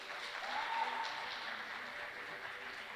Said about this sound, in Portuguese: aplauda aí, vai